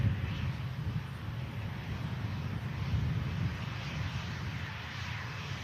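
A British Airways Airbus A380 jet departs Manchester Airport, its engines giving a steady, distant low roar that holds evenly throughout, with some wind buffeting the microphone.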